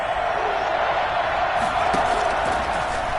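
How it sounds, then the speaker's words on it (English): A football stadium crowd at a Saints game roars steadily throughout, a dense, loud wall of cheering with a few sharper whoops and claps rising near the middle. "That just means this crowd's going to get even louder."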